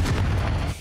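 Confringo blasting curse exploding in Hogwarts Legacy, a loud, deep booming blast that fills the short moment and tails off abruptly.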